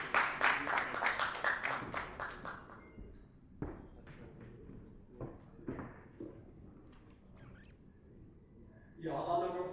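An audience at a BRICS chamber of commerce event applauds as a Chinese Embassy representative is welcomed, the clapping strong at first then fading into sparse scattered claps and thuds, with a voice near the end.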